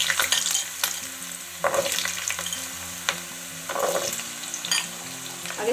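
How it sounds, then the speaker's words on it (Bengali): Chopped potatoes frying in hot oil in a pan, a steady close sizzle with intermittent stirring scrapes and clinks, no talking. "এবার আলুটা ভেজে নিচ্ছি।"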